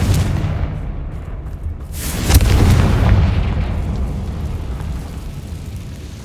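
A Confringo fire spell blasts in Hogwarts Legacy, a deep booming explosion that swells and rumbles for several seconds after a quieter low background, loud and close.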